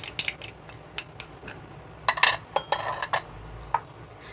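Seasonings of sugar, Shaoxing wine, dark soy sauce and oyster sauce being stirred together in a bowl, a run of close, light clinks and taps of utensil against the bowl in an uneven rhythm, loudest midway through.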